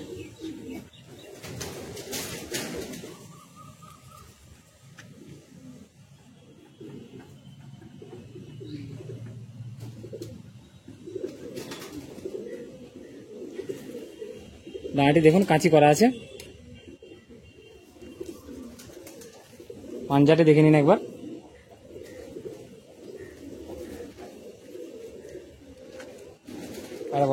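A Kalsira Madrasi high-flying pigeon coos while held in the hand, soft low calls with two louder bursts, heard close under a voice speaking Bengali.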